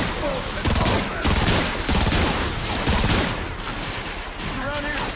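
Sustained video game gunfire, dense rattling bursts of shots that carry on steadily at close range, loud and continuous.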